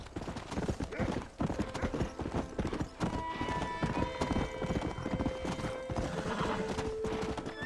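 Rapid hoofbeats of a galloping horse in Red Dead Redemption clatter steadily throughout, with a horse whinnying partway through over a busy background.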